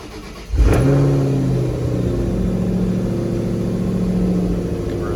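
A Ford Mustang GT engine fires up after a jump start, catching suddenly with a loud burst and then settling into a strong, steady idle close by.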